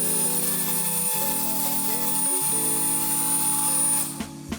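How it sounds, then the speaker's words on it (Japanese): A powerful car-wash blower drives water off the side of a car, making a steady, loud, whining roar that shifts pitch in steps and cuts off near the end. "次に車のサイドの水を飛ばしてみます。"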